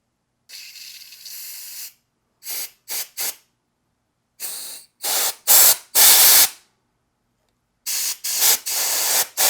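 Aerosol cleaner sprayed into the carburetor bowl of a Honda Elite 80 scooter: a series of sharp hissing bursts, some short and some longer, loud and close, separated by silence.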